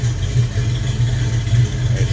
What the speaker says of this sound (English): Hear it run, very smooth running engine.